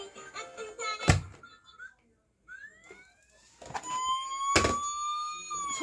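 A toy fire truck's electronic siren gives rising and wavering tones after a couple of sharp button clunks, with a child and an adult talking around it.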